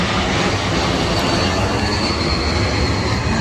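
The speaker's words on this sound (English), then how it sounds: "we also have a jet flying over" A jet aircraft passes overhead in the dark, a loud, unbroken broadband roar that holds steady throughout without any talking.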